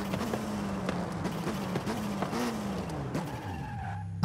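An Alpine A110 in the racing game Forza Horizon 5 brakes hard, its tires squealing and skidding in a long sliding whine that bends downward before fading out.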